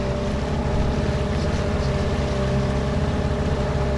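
A motorboat's outboard motor runs steadily on high river water from a new camouflage Gladiator E 380 R boat, a continuous close droning hum with no pauses and no voices.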